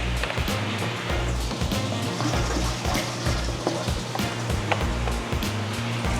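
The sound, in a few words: tap water running to fill an aquarium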